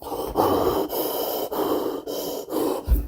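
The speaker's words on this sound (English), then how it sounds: "Halloween, it opens with a lot of breathing" Heavy, deep breathing from the opening of the 1978 film Halloween, slow rhythmic inhales and exhales repeating about five times, close and muffled as if behind a mask.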